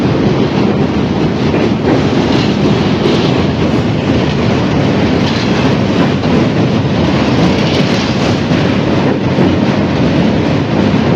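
A local train rolls past near the Kolaghat bridge, a loud, continuous rumble and roar with rhythmic wheel clatter and wind buffeting the microphone, sustained at close range throughout.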